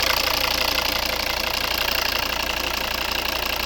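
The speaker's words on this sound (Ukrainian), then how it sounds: "Ось робота двигуна." A 2013 Volvo V70 with a 2.0-litre five-cylinder turbo diesel, four valves per cylinder and an automatic gearbox, idles close by with a steady, even engine drone and no talk over it.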